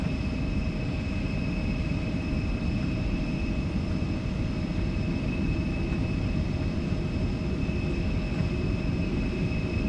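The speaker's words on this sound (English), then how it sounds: "Takeoff thrust is set, auto throttle set." Embraer E175 jet engines spool at takeoff thrust in a flight simulator game, a loud, steady roar with persistent whining tones that holds evenly throughout without any talk.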